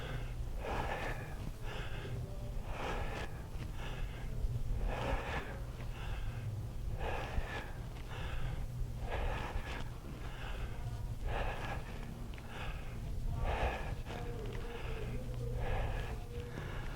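Heavy, rhythmic breathing after a set of thrusters exercises, with repeated loud gasping exhales and snorting inhales at a steady pace close to the mic, over a constant low background hum; no talking.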